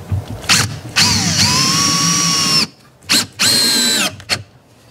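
A power drill drives screws into a wooden queen grafting timing box, with short whirring bursts and longer whines that rise and fall in pitch as each screw seats, close and loud.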